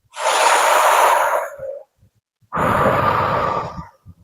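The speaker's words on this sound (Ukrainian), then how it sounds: "ви дихаєте тут диханням трубочкою через букву О" Deep breathing through lips rounded into an O during a calming meditation exercise: two long, close, airy breaths, each about a second and a half long, separated by a short pause with faint soft sounds.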